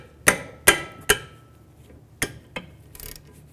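Socket tool working on the rear brake caliper bolts of a 2010-2017 Chevrolet Equinox, a handful of sharp metallic clicks and knocks, three close together and then a few softer ones, near and alone.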